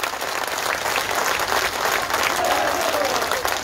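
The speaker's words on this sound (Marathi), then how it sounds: "माननीय नामदार भुजबळ साहेबांच्यासाठी जोरात टाळ्या वाजवा" Loud, dense audience applause at an award ceremony for Bhujbal, a crowd clapping continuously with some voices mixed in.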